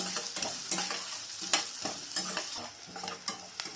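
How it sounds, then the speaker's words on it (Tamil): Sliced large onion sizzles and fries in a hot pan for sambar, with a spatula scraping and stirring in irregular bursts, close up and moderately quiet. "ஒரு பெரிய வெங்காயத்தை ஸ்லைஸ் பண்ணி வச்சுருக்கேன், அதையும் இதில் சேர்த்துக்கலாம். நல்லா வதக்கிடலாம்."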